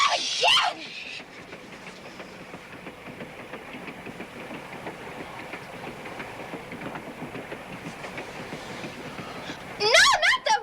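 A train rolls along, heard from inside a passenger compartment as a continuous muffled rumble with rhythmic clatter, bracketed by brief sharp shrieks and bursts at the start and end.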